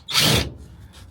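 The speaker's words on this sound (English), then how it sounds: "Drill in hand, taking all the little bits out of here while I'm grinding bloody bolts off, making a noise." Power drill whining in a short, loud burst inside a campervan during a conversion while bolts are ground off, cutting out quickly into a faint tail.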